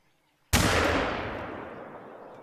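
A single loud hunting rifle shot from The Hunter: Call of the Wild, set on an African hunting ground, cracks sharply after a short silence and its long echo rolls away slowly.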